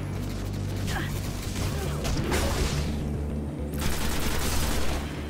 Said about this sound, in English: just shoot them in the body